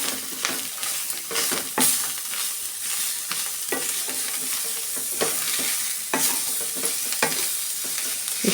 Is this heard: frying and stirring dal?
yes